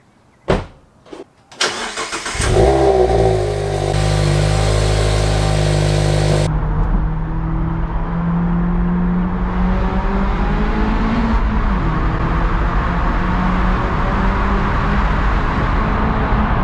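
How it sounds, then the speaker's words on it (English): A Porsche Carrera T cold-starts with a few clicks, then catches in a loud, sharp rev flare before settling into a high, steady fast idle that slowly eases down, close and alone. "But first, cold starter, baby."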